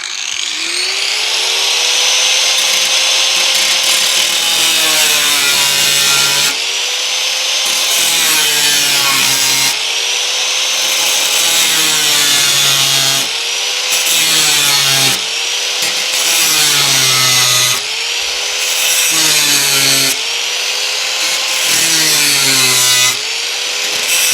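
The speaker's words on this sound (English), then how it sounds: "Then we're going to have to run the grinder around all this as well." An angle grinder cuts into the steel body panel of a 1972 MG Midget, a loud, high whining grind that rises and falls in repeated passes with brief pauses between cuts.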